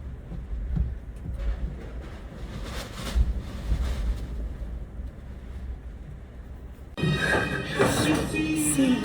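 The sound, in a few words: strong wind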